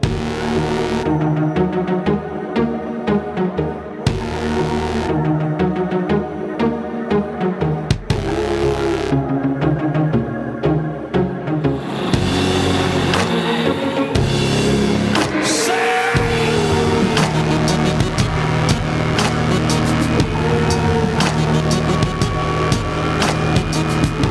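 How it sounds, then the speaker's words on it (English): A V8 touring race car driven for a spin, its engine rising and falling through revving accelerations and gear changes, loud and close throughout with a throbbing, shifting pitch. "let's go take the car for a bit of a spin"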